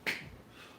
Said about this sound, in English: Nice strong push-up with a clap